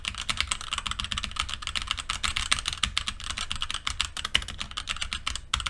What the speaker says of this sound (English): let's go ahead and bang around on the keyboard in this situation and see what this sounds like